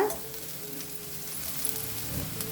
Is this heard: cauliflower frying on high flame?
yes